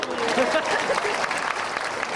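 Loud, dense applause from a crowd at a Golkar party halal bihalal gathering, steady and close, with some voices mixed into the clapping.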